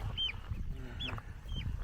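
Chickens clucking with ducks nearby in a backyard coop, a few short nasal clucks and calls repeating at close range over a rumbling outdoor background.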